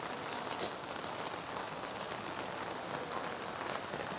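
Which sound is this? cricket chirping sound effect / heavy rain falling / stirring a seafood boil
heavy rain falling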